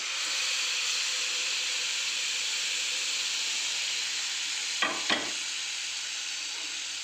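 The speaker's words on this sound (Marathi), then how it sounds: "आता याच्यात आपल्याला डाळ वांग ॲड करायचं आहे मी डाळ वांग आता मी टाकतोय" Dal and brinjal tossed into a hot pan, a steady close sizzle and hiss running throughout, with a couple of quick stirring knocks near the end.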